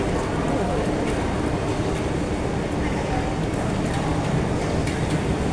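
Steady, loud rumbling noise of a Singapore MRT metro train in motion fills the space, with faint station clatter and no clear speech on top.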